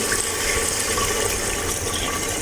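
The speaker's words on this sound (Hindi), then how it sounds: "ये अब इसमें पानी ऐड कर दूँगी।" Water is poured into a pot of aloo gosht, a potato and meat curry, as a steady, close splashing rush that runs without a break.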